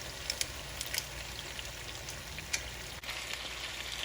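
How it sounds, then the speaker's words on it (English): Constant sizzling of chicken thigh pieces frying in a hot pan, with occasional sharp pops and crackles over a steady hiss. "add in our first batch back into the frying pan"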